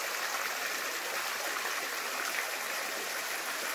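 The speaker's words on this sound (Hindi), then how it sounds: "इधर यहाँ से पत्थरों के पूरा पानी निकल रहा है" Clear water spilling out from between rocks into a stream in a dense forest, a steady close rushing and gurgling flow that fills the whole stretch without pause.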